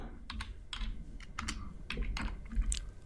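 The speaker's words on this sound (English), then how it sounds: "So I'm going to type in hello" Close fingers type on a computer keyboard while entering a line of Java code, a quick irregular run of crisp key clicks and thuds with no talking.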